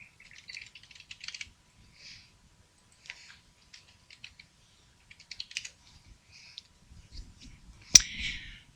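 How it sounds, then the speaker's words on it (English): Fingers type on a computer keyboard in quick, faint clusters of clicks with brief pauses, ending in a single sharper tap, alone without any talk. "Oh my gosh, I can type."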